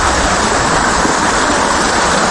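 Heavy water gushes steadily from a spring swollen by overnight rain, a loud, continuous, close rushing roar with no break or other sound.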